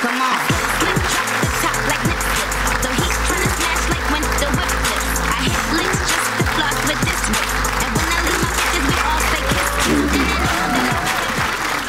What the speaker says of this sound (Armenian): Դիմավորեք, բարդ ծափարություններով, գնացինք